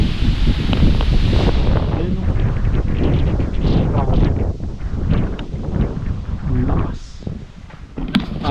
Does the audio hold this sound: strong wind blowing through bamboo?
yes